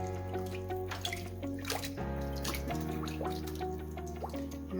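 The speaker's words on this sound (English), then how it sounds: "So we're actually going to take him into the sink, and we're going to rinse him there" A butchered duck being rinsed under running water in a kitchen sink, with steady splashing and dripping close by, continuous throughout.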